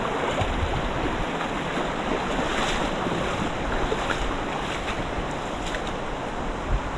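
River water rushes around a hiker crossing a stream on the Bras de la Plaine trail in Réunion, a loud, broad, unbroken wash with some wind buffeting the microphone.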